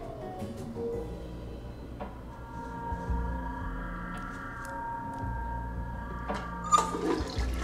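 A toilet flushing in the video game Heavy Rain, a steady rushing gurgle of water that runs continuously throughout at moderate loudness, with no talking over it.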